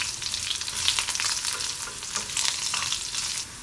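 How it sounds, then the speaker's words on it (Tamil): Masala spices fry steadily in oil in a pan over a medium flame for a fish gravy, giving a continuous close crackling sizzle with bright spitting bursts and no talking. "மசாலா ஐட்டம்லாம் நல்லா எண்ணெயில் வறுபட்டுட்டு வாசனை வர ஆரம்பிச்சிடுச்சு"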